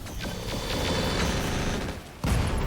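High explosive rounds fired at a Merlin mech in RogueTech, a rapid string of mechanical shots over a dense rumbling bed, ending in a loud heavy impact burst near the finish, with no talk.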